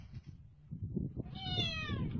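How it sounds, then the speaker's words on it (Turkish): A cat hiding under a car meows. Low rumbling and noise sit beneath it, and then one clear, rising and falling meow comes through near the end. "Arabanın altına kedi gidiyor ya, hayret bir şey ya"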